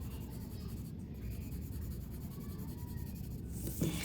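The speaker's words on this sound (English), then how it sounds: "to make my values lighter and lighter, I'm barely pressing with the pencil" A pencil is lightly shading on paper with barely any pressure to build a value scale, giving a soft, continuous, faint scratchy rubbing throughout.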